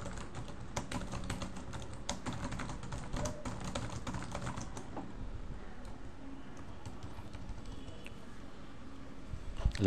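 A cover letter being typed on a computer keyboard: quiet, rapid key clicks in bursts for the first half, then fading to sparse taps over faint background hiss.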